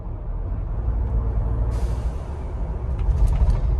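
A 2021 Ford Bronco 2.7L fitted with an AMP blow off valve adapter rumbles steadily, then releases a sharp, airy whoosh of venting boost that lingers as a soft hiss over the engine drone.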